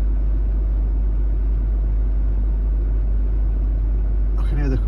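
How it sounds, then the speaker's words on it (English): A Range Rover L322's air suspension compressor drones steadily and loudly as the faulty suspension raises very slowly, a continuous low rumble that never lets up, with a short tonal sound right at the end. "I can hear the compressor going"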